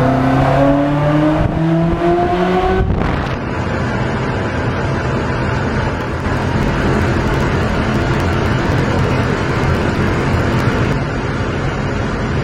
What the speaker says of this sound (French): l'important c'est d'entendre le bruit moteur maintenant